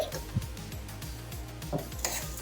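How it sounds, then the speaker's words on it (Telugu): Ingredients for murukulu being dry-roasted in a pan, with a ladle scraping and clinking against the metal in a steady stirring rhythm and a few sharper knocks, close and moderately loud. "ఇవన్నీ దోరగా వేయించుకుందామండి"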